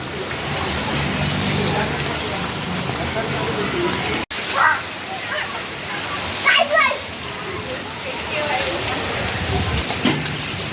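First monsoon rain of the year pouring steadily on surfaces nearby, a continuous wash of drops with a brief cut partway through, while children and adults talk and call out over it.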